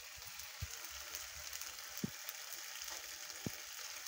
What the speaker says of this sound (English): this is going to go on high for the last minute or two. Sear it.